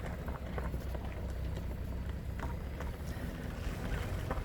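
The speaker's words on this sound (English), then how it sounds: "I apologize for the road noise." Steady low rumble of road noise from inside a moving car driving through Oakdale, Tennessee, with wind buffeting and no talking.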